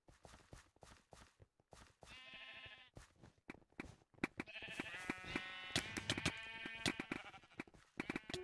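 Sheep in a Minecraft Mineplex mini game bleat repeatedly in short, wavering cries, some overlapping, amid scattered clicks and busy game effects. A later stretch grows denser and louder.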